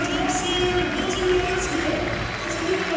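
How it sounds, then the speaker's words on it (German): Crowd noise in a volleyball arena during a women's Bundesliga match between Schweriner SC and VC Wiesbaden, a steady dense roar of spectators with faint cheering and some clapping throughout. "extra Applaus für Lisa Thomsen für die Annahme"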